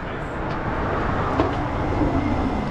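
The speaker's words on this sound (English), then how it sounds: "Sorry about the constant car noise." Steady, loud road traffic on a London street near the Strand, a continuous broadband rumble of passing cars and buses with no break.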